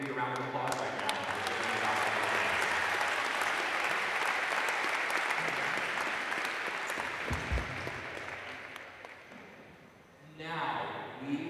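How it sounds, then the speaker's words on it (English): An audience at a Science Olympiad regional awards ceremony applauds a trophy sponsor, a sustained dense wash of clapping that slowly tapers off, after which a voice begins speaking. "we're going to give you a round of applause right now"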